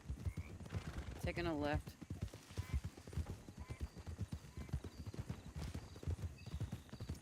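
Horse hooves clip-clopping in the Western role-play video game Red Dead RP, a steady rhythmic trot with an occasional whinny, heard under ongoing conversation between several players.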